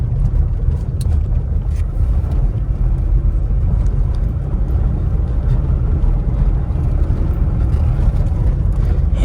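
Steady engine and road rumble from inside a small Japanese kei car on the move, a constant low drone with wind noise and no speech.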